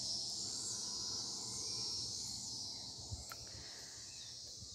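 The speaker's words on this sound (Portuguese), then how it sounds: "E aí fiquem com essa paisagem, com esse barulho de cigarras." Cicadas buzz in a steady, continuous high drone across an outdoor garden scene near a jabuticaba tree, holding level throughout with a brief faint click partway through and no voices.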